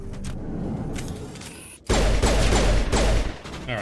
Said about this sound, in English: lost shields because I think Wrex shot me